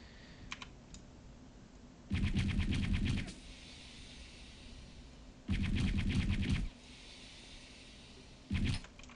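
Bursts of automatic gunfire in Return to Castle Wolfenstein, three rapid rattling volleys of ten-round bursts, crisp and fairly loud against a quiet backdrop.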